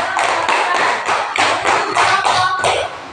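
A classroom of pupils claps together in rhythmic bursts, loud and close, about seven even beats over three seconds, with no talking over it.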